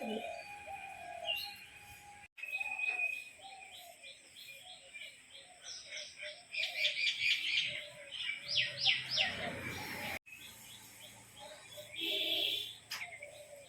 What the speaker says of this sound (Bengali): শ্বেত পায়রা আর বিস্কুট কালার পায়রা খুব সুন্দরভাবে এরা মস্তি করে